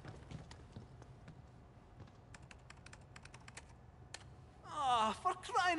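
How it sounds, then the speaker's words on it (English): A game cat walks across a computer keyboard in Final Fantasy VII Rebirth, tapping out a scattered run of quiet clicks. A bright, warbling electronic tone rises at the end, louder than the keys. "Typical cat stepping on the keyboard."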